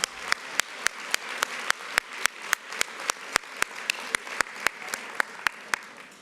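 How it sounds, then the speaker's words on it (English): Applause for board alumni rings out at a women's celebration breakfast, with dense crowd clapping under a run of sharp, regularly spaced clicks that repeat roughly every third of a second throughout. "another round of applause for our board alumni"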